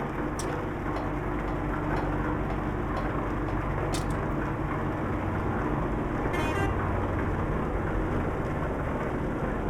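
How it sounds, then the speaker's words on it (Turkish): Horn of a Mercedes O 304 bus in Euro Truck Simulator 2, sounding in a few short blasts over steady engine and road rumble on a rainy night drive. "Bu arabanın kornası da ayrı bir efsane."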